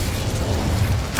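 An Incendio fire spell is cast in the Hogwarts Legacy game, giving a low rumbling whoosh of flame that ends in a sharp pop.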